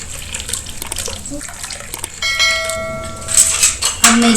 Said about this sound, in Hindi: काढ़े के लिए मैं पानी ले रही हूँ।